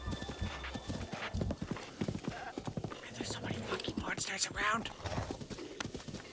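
Horse hooves clip-clopping in The Legend of Zelda: Breath of the Wild, a steady rhythmic trot heard under someone talking, with faint bird calls and game sounds around it.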